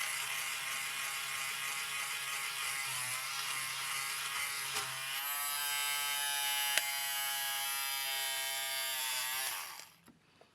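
An electric lint remover (fabric shaver, model SR-267) runs continuously over fabric with a steady high-pitched whirring buzz, changing slightly in tone as it moves, then cuts off near the end.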